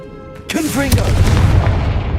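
Fiery blast of the Confringo spell cast in Hogwarts Legacy, a sudden booming burst that rolls into a sustained low rumble, loud and close, with a faint voice just before it.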